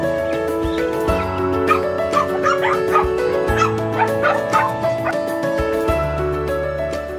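Several dogs at a home sheltering many animals bark, yip and whimper in quick irregular bursts, close and loud over a droning background, with a possible fowl call mixed in.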